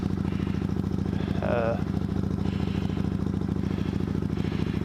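Harley-Davidson Street Bob 2014 motorcycle engine idling at a steady, loud mechanical throb, with a brief higher whine partway through.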